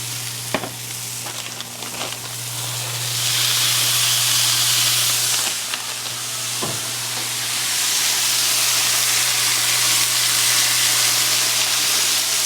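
Onions sizzle loudly in oil on a flat griddle, a dense, steady hiss that swells and holds close by, with a few scraping clicks of a spatula near the start and no talking.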